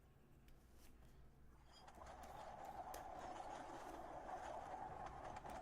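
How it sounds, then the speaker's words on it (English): A train rumbles by in the distance, a faint low rolling drone that slowly swells and holds steady as it passes, heard alone without talk. "The sound of the train going in the background, to me, makes it feel like I'm like out, not sitting in my apartment."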